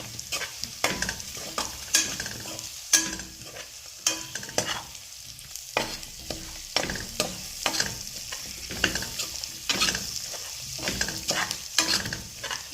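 Onions and turmeric frying in a pan, a continuous sizzle broken by regular scraping and stirring strokes of a utensil against the pan, close and clear with no talking.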